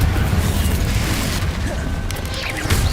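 Confringo fire blast spells in the Hogwarts Legacy video game erupt as dense, loud booming bursts amid a continuous clash of combat noise, with no clear break across the stretch.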